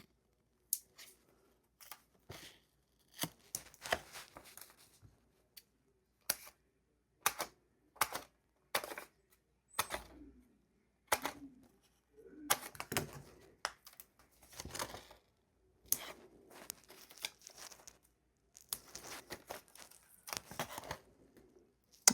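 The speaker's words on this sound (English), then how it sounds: "I'm just going to cut some pieces up here, sprinkle them all around." Scissors snip paper pieces for card making at close range, a long run of sharp, separate cuts with irregular gaps and faint paper rustling between them.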